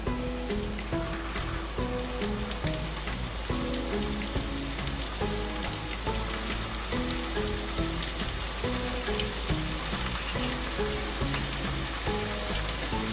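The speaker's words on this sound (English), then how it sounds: "we have prepared all the koftas, and now we'll fry them" Malai koftas fry in hot oil with a continuous crackling sizzle and scattered pops, heard up close beneath a steady backing of tonal music.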